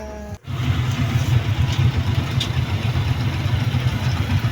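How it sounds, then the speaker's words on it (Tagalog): A tricycle motorcycle engine idles and drones close by with a steady rumble, low and continuous, with faint traffic noise and no talking. "Sakay na tayo ng tricycle."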